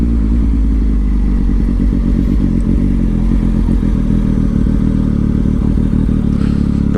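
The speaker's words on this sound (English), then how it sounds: "I'm going to pull a U-turn here because I don't really want to go down this other back road." A Triumph Speed Triple S motorcycle fitted with an SC Project exhaust rumbles loud and close as it makes a slow U-turn on a back road, its engine note steady with a few small clunks and rises in pitch.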